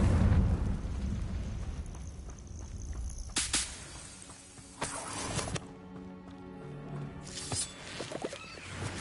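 A Confringo fire spell bursts in Hogwarts Legacy, giving sharp, loud explosive cracks with booming tails, several blasts spread across the stretch over a steady bed of game sound.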